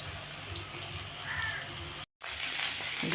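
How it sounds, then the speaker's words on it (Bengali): An egg frying in a pan makes a quiet, continuous sizzle with faint crackles, briefly cut to silence before resuming a little brighter. "এদিকে ডিম ভাজা হচ্ছে।"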